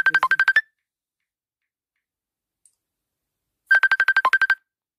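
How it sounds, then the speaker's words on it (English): A phone ringtone plays two short bursts of rapid, bright electronic beeps, each lasting about half a second, separated by several seconds of silence. "This phone is ringing."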